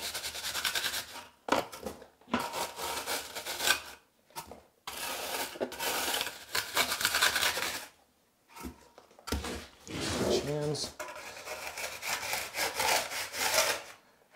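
Repeated rough back-and-forth scraping strokes of a screed board sawing across tile mortar, loud and close, in steady bursts separated by short pauses.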